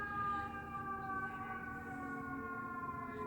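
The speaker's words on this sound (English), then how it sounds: "Again with the sirens, too." A steady siren wails at a distance, its sustained tones holding throughout with a low background rumble.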